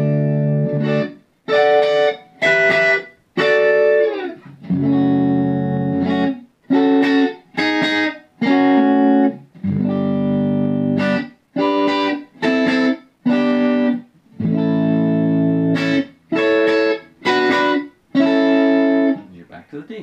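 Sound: guitar riff in D

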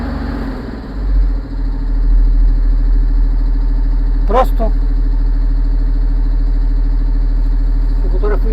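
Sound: tractor sprayer diesel engine idling

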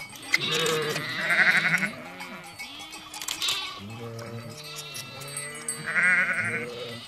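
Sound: lambs and sheep bleating

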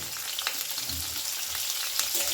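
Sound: frying bori (lentil dumplings) and peanuts

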